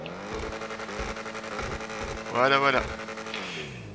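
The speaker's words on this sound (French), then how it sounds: "Voilà donc avec le fameux bruit du moteur de la" A Subaru BRZ engine revs in the game GTA V, a steady droning note that surges into a louder, rising rev near the end, with someone speaking briefly over it.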